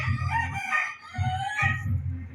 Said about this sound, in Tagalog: Dito naman guys yung mga manok.